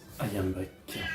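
A cat meows once, close and fairly loud, right as a person is speaking indoors.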